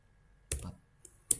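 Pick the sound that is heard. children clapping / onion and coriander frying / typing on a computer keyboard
typing on a computer keyboard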